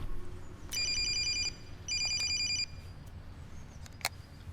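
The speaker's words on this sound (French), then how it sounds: "Ah, c'est mon téléphone." A telephone in a French thriller film rings in two loud electronic bursts, separated by a short gap, followed by quieter room sound and a faint click.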